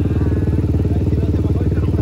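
A motorcycle engine running steadily with a rapid, even putter and some clatter, close and loud, continuous throughout with no one speaking.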